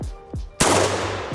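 Orthos Arms S4, a Benelli M4 clone shotgun, firing cheap Federal ammunition outdoors: one loud, sharp blast with a long ringing tail, followed by the rattle of the action.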